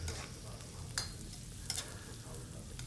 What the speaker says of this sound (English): This is 2 cloves of crushed garlic. Now we mix it well.